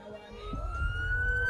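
An ambulance siren from a hospital TV advert rises in a wailing, swelling tone over a low rumble, loud and up close throughout.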